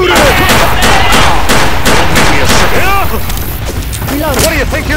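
Dense, rapid gunfire in the zombie shooter Left 4 Dead 2, loud continuous bursts of automatic shots with clattering impacts, while players and in-game characters shout over the fighting.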